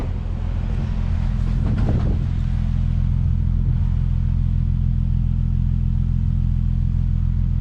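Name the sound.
Nissan 370z engine idling and exhaust after spark plug replacement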